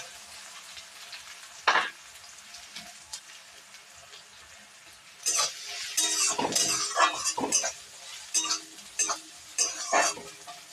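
Ginger and garlic being stirred as they fry in a pan for a spicy tengra fish curry: a quiet sizzle at first, one sharp scrape, then a louder run of utensil scrapes and crackling sizzles in irregular bursts, no voices.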